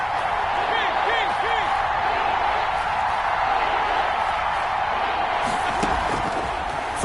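A dense stadium crowd in a football video game roars steadily on a big third down, a broad continuous wash of cheering with scattered whoops and shouts, loud and sustained throughout.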